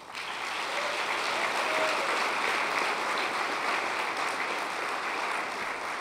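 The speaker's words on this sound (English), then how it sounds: "for the AWARE Foundation, let's give them a round of applause" Sustained applause from a dinner audience at an awards event honoring the AWARE Foundation, a dense, steady wash of clapping that holds at even loudness for several seconds.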